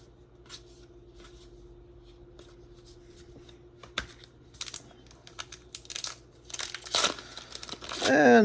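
Foil packs of Topps Heritage baseball cards are pried and torn open by hand. Quiet crinkling and rustling gradually build, ending in a loud, close burst of tearing and crumpling foil.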